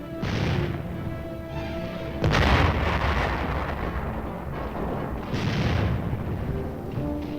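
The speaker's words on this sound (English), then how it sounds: "artillery continued to chase the enemy." Artillery fire in a 1956 Korean War film rolls on as dense, continuous rumbling booms, with heavier blasts swelling out of a thick, loud roar.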